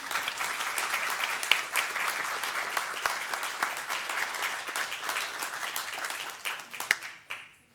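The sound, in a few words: applause for the Eustis girls' team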